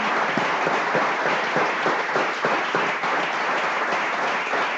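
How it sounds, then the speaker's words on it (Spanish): A church congregation applauds during a worship service, with dense, steady clapping from many hands filling nearly five seconds at an even level. "Démosle un aplauso al Señor, hermano."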